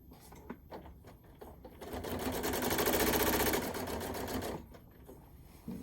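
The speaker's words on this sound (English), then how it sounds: "The machine sounds like it's fighting." A sewing machine stitches through a heavy quilt and drags under the weight, running steadily and close, building louder in the middle before easing off.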